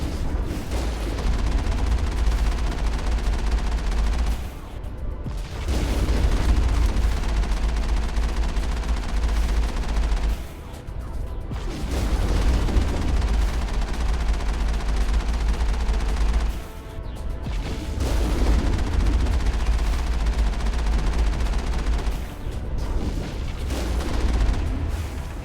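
Heavy gunfire in Mass Effect roars in long, dense bursts separated by short pauses, loud and close throughout.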